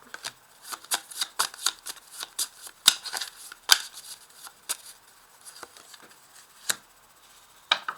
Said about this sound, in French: Alors, on va ajouter une carte sur l'éloignement.